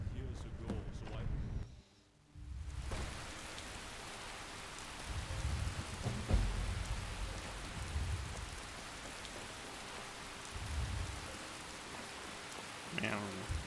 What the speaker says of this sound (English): Man, it is raining.